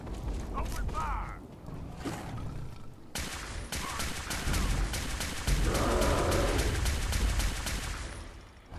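Rapid automatic gunfire in the modded video game Fallout 4 from about three seconds on, a steady run of sharp, loud shots layered over game sounds and mechanical clatter.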